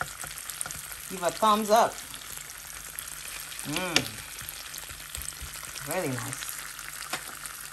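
A T-bone steak fries in a pan on a stovetop with a steady, moderately loud sizzle throughout, while someone talks over it in short bursts.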